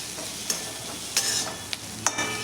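Spoon stirring okra with turmeric and spices in a pan, a steady sizzle running throughout with several sharp scraping clacks of the utensil against the pan.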